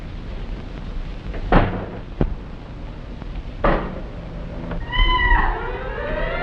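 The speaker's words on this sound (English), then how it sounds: "It was only a cat." A cat meows a few times in a quiet indoor room at night, with a couple of sharp knocks like a cupboard or door closing between the calls and a final drawn-out, rising meow near the end.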